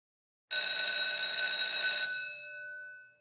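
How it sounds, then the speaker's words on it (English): A loud electric bell rings continuously for about a second and a half, then stops abruptly, leaving a ringing metallic tone that fades. "the school bell is ringing"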